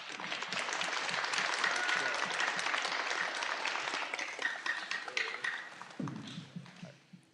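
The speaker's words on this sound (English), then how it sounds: "If we could please give them a round of applause." An audience at a school spelling bee applauds in a dense, sustained burst that thins out and fades near the end, with no talking over it.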